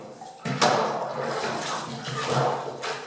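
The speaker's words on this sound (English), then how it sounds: "We can hear that I'm pushing down onto the item, agitating it, hopefully cleaning it, and getting rid of all the grubby bits." A tea towel is pushed down and agitated in a water-filled dolly tub, making close sloshing and swirling surges of water that rise and fall in a few slow strokes.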